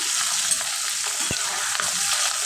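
A steamed vegetable curry sizzles steadily in a pan, a dense continuous hiss broken by a thud or two from stirring.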